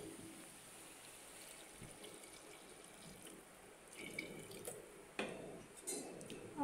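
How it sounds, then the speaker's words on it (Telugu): Water pours into a pot of curry made with dried fish pieces and cooked tomato before pressure cooking, a faint, soft splashing over quiet kitchen background that grows slightly louder toward the end. "సో వాటర్ వేసుకొని"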